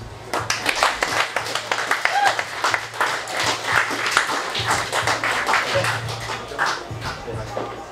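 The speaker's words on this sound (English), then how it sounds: "one more round of applause for Dan Wells" Clapping for Dan Wells at a partner evening social gathering, a fairly close, uneven burst of hands from a modest group, with voices talking and a low hum underneath throughout.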